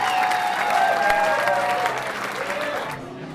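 Wedding guests at a Sydney reception break into loud, sustained applause for the bride's parents, a dense clapping wash that holds steady for about three seconds before cutting off abruptly.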